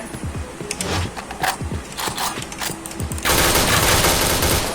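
Rapid gunfire from the Point Blank online shooter game, with bursts of sharp shots at first and then a dense, continuous loud volley over the final second and a half.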